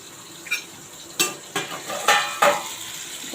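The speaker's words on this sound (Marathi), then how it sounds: "कारली थोडी परतून घेऊया हलकी आपण त्यांना तेलावर परतत आहोत" Stuffed bitter gourds sautéing in oil in a pan, a faint steady sizzle broken by a few sharp scraping and stirring knocks of a utensil against the pan.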